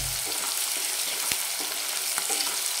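Chopped onion frying in a pan for a chicken spinach curry, a close, steady sizzle broken by a few sharp stirring clicks and scrapes, with no talking.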